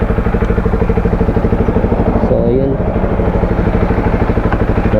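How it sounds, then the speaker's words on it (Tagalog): A repaired motorcycle engine runs with a loud, steady, rhythmic idle throughout, and a voice briefly speaks over it. "Okay na ang motor ni kuya."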